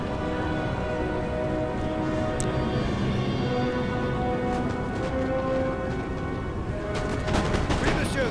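Ragged musket volleys crackle continuously in a Napoleon Total War multiplayer battle on a pyramids map, a dense rain-like patter of distant gunfire with cavalry fighting nearby and a voice talking underneath.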